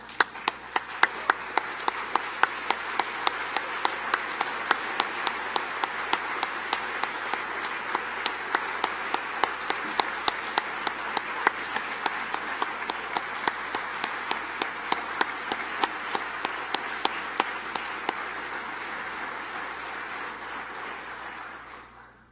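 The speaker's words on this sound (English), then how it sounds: "join me in an outstanding round of applause to congratulate you" A large audience at a university spring convocation gives a sustained round of applause, dense loud clapping that holds steady for about twenty seconds before tapering off, with no talk.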